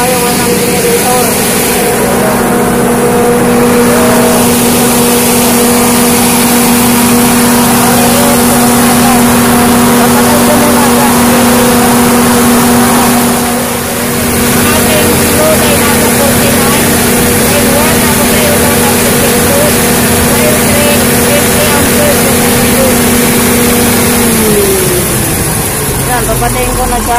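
A Cummins 200 kVA diesel generator runs at a loud, steady drone with a constant hum and a strong broadband roar, close by throughout. Near the end the pitch dips slightly, and no talk is heard.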